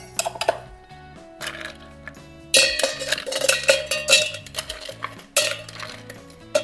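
Ice cubes clattering and clinking into a metal cocktail shaker while mixing a layered Top Deck cocktail, bursts of bright, close rattling separated by short pauses, no talk.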